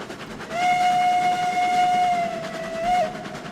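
A small narrow gauge steam train in a railroad video game runs along while its whistle sounds a long steady blast, then a short second toot, over a low rolling rumble.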